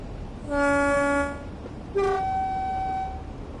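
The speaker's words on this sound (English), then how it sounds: "these trains are quite loud" Two loud blasts of a train horn in the video game Train Sim World, the first long, the second starting sharply and fading out, over a low rumbling background.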